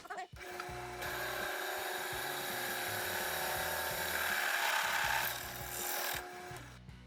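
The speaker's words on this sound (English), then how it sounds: "we need to drill a hole in our bracket for our RPM sensor" Power drill boring a hole in a metal motor bracket for mounting an RPM sensor, a steady high whine running nearly continuously for several seconds at close range, with a brief start and tail-off.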